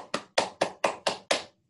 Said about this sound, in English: Good clapping.